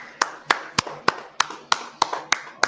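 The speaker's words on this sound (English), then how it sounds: "I clap it up. Clap it up." Hands clap in a slow, even rhythm, about nine sharp, close claps spaced evenly apart with nothing else competing.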